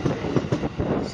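A KRL Commuterline electric train runs past on a sharp curve near Citayam station, with loud rhythmic wheel clatter and rumbling close by and voices mixed in over the noise.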